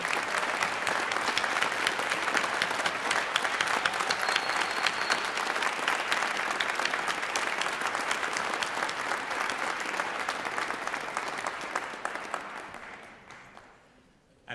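Audience at a master's degree hooding ceremony applauds steadily in a large hall, a dense sustained roar of clapping that fades out near the end.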